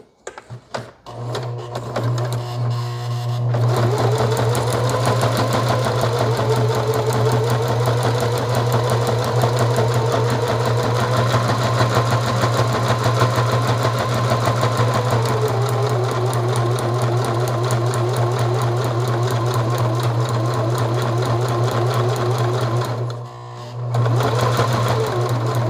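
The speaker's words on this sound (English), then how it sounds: "I've got the sewing machine set on 0" A sewing machine runs steadily, stitching elastic into a cowboy hat made from a beer box, with a loud, even mechanical whir that starts after a few brief bursts, holds for about twenty seconds, dips briefly and resumes.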